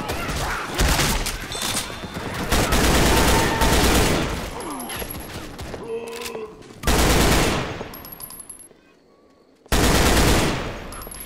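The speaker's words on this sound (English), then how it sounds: "Quit shooting me, Nick!" Loud automatic gunfire from Left 4 Dead 2 erupts in heavy repeated bursts, broken by quieter gaps with game sound effects, one near-silent pause, then another sharp volley.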